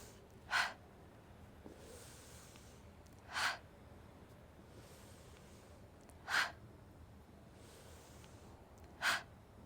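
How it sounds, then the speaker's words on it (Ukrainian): Four sharp, forceful breaths pushed out through the mouth during yoga pranayama practice, evenly spaced about three seconds apart, close and distinct over a quiet room hiss with no talking. "Вдих через ніс. Різкі видих. Через рот."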